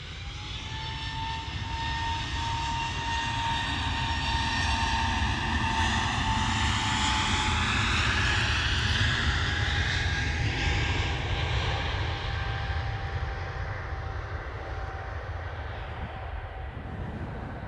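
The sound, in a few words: aircraft engines at Manchester Airport during a turn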